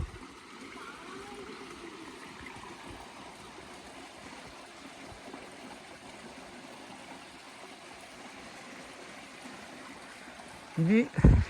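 A steady, even rush of a mountain stream in Dzükou Valley, Nagaland, fills the scene, with a brief voice breaking in right at the end.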